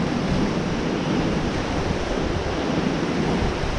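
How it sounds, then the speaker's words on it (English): A whitewater raft splashing down through river rapids, a loud, continuous roar of rushing water and spray close to the microphone with no clear breaks. "All right, there's a little splashdown."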